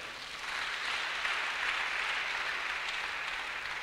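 A church congregation applauds together in a faint, distant wash of clapping that swells after a moment and holds steady to the end.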